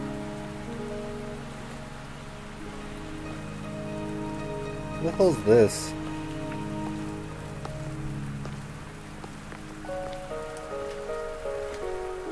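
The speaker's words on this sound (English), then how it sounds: "Oh, now it's raining." Steady rain falls in the video game Wuthering Waves, a soft continuous hiss under looping game music, with a brief louder burst midway and a voice speaking once.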